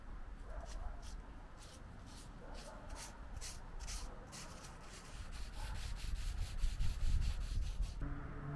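Rhythmic back-and-forth strokes of sandpaper rub against stained antler, close and scratchy, with a few pauses between passes.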